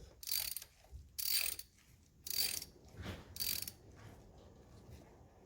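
Ratchet wrench torquing spark plugs on an Audi S3 engine, heard as four loud bursts of rapid clicking, each about half a second long, separated by short pauses, with no talking.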